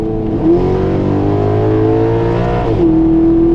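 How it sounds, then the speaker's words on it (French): A Maserati GranTurismo Sport V8 holds a loud, steady rev that rises smoothly in pitch, then drops back to a lower drone. The engine note is close and runs alone, with no talk over it. "c'était le moteur le plus mélodieux au monde"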